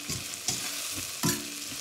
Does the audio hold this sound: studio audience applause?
no